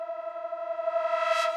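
A detuned disco-style sparkle synth lead holds one bright, buzzy sustained note through spring reverb, growing brighter and shimmering toward the end, clean and alone with no voices.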